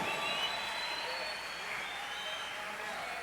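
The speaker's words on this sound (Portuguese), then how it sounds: "Dá mais uma salva de palmas a Jesus" A congregation at an afternoon prophetic conference session applauds in a continuous wash of clapping and crowd noise that holds steady throughout, with no voices standing out.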